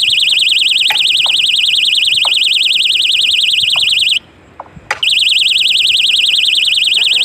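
A knock-activated doorbell tested on a railway track buzzes loudly and steadily in a pulsing, warbling electronic tone, cutting out briefly for about a second, then resuming, with faint clicks and taps underneath.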